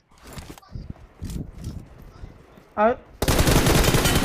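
Gunfire in a shooting video game with headshots: a burst of rapid automatic fire starts near the end and continues loudly, after scattered footsteps and clicks, with speech present.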